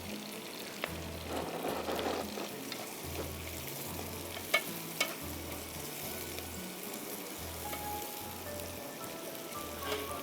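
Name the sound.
frying spices and tomatoes for biryani gravy in a pan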